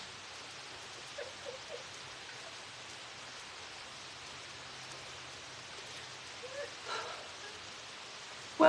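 Rain falls as a soft, steady hiss outdoors, with faint scattered sounds drifting over it before a sudden louder bump at the very end.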